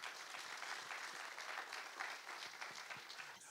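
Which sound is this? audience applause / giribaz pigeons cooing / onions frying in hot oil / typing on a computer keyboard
audience applause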